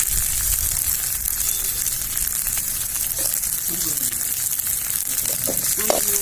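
Garlic cloves and dried red chilies sautéing in a pan for a spicy chutney, a steady broadband sizzle with faint scraping stirs near the end.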